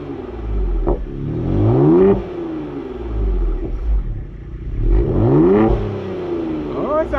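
2020 Ford Explorer ST turbocharged engine revved in repeated bursts, each climb rising in pitch and falling back to a low rumble, loud and close, with a faint turbo whistle.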